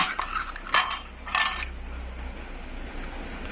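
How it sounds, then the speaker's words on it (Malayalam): A metal pot clanks twice onto a gas stovetop, sharp close knocks about half a second apart, followed by quiet background hum. "നമുക്കൊരു പാത്രം അടുപ്പിൽ വെച്ചിട്ട് ഗ്യാസ് ഒന്ന് ഓണാക്കാം."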